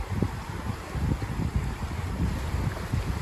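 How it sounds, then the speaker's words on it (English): Water rushing through a shallow stream that runs out to the sea, a close, continuous churning roar with low turbulent surges and some wind buffeting, no voices. "all that water rushing against it"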